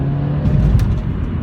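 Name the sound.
Mercedes-Benz CLA 250 Shooting Brake accelerating after kickdown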